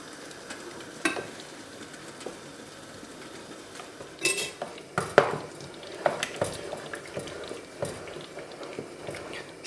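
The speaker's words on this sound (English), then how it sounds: "So boiling up some more jars, some big ones this time, because I think we're going to need it." Pots and glass jars clink and clatter in a home kitchen while jars are boiled for jam-making, with scattered sharp knocks over a soft background bubble, fairly quiet.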